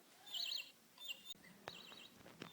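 A single bird gives several thin, high chirping calls in short bursts. They sound fairly faint against a quiet indoor background.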